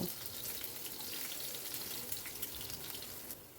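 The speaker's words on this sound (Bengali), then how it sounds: "এবারে আমি এর ভেতর দিয়ে দিচ্ছি কেটে রাখা রসুনের কুচিগুলো" Chopped garlic sizzles steadily in hot oil in a pan, a close, continuous frying hiss with faint crackles that fades slightly at the end.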